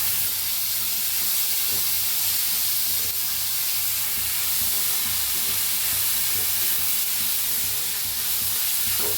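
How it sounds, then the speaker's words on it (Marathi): Soaked dal and vegetables for shevga bhaji sauté in a hot pan, giving a steady, close sizzle and hiss that runs unbroken for the whole stretch. "छान 1 मिनिटभर असं परतून घेतलंय बघा."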